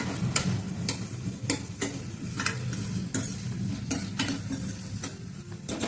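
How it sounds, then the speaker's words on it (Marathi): Tomatoes cooking down until soft in a pan, a low sizzle under regular clicking scrapes of a spoon against the metal roughly every half second, close but fairly quiet. "टमाट्याला भरपूर असं मऊ करून घ्यायचं आहे आपल्याला."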